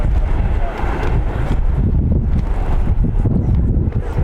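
Strong wind buffets the microphone on a soccer field during a U19 match in stormy weather. Loud, gusty rumbling roars close and nearly unbroken for four seconds.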